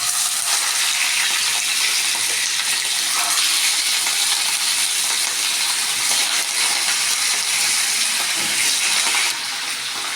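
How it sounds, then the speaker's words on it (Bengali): Katla fish pieces frying in hot white cooking oil in a kadai, a loud, steady, dense sizzle that holds evenly throughout with no talk. "মাছটাকে একটু হালকা করে ভেজে নিতে হবে বেশি ভাজলে কিন্তু শক্ত হয়ে যাবে"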